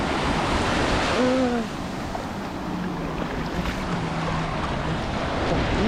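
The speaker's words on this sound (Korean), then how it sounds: "지금 뭐 바닷물이 밀려오는데" Sea waves wash onto the beach at Yeongildae in Pohang as a steady, broad roar with wind buffeting the microphone, plus a brief tonal call near the start.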